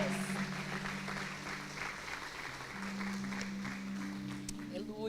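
A church congregation applauds during a women's worship service, a sustained wash of clapping mixed with crowd voices and a low held tone underneath.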